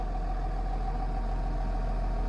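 A tractor's Perkins engine idles nearby, giving a steady, even low hum with a constant tonal drone throughout, alone and fairly quiet.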